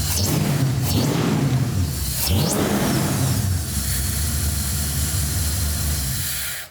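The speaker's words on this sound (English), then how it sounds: "Do a rev for the audience." An air-cooled Volkswagen motorhome engine revs up close, loud and steady, with a couple of sweeping pitch rises as the throttle is blipped before settling into a sustained idle roar that fades at the end.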